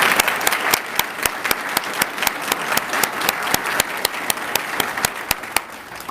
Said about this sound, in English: Audience, let's give the Honor Guard a round of applause for being here today.